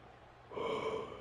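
Short human yawn from a tired commentator, starting with a quiet breath and swelling into a drawn-out, voiced exhale lasting about half a second, close to the microphone.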